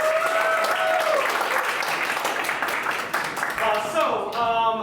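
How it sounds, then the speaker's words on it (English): Audience at an improv comedy show applauds steadily for nearly five seconds, a dense, even wash of clapping with cheering voices rising over it near the end. "give Spud a round of applause"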